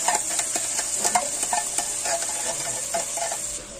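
Meat sauce for spaghetti being stirred in a pan, with steady close sizzling and frying under repeated scraping, clacking strokes of the spoon throughout, no voices.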